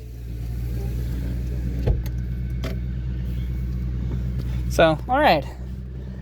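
An old classic truck at an auction idles with a low rumbling engine under a man's speech, with a few brief knocks and a short whining squeal near the end.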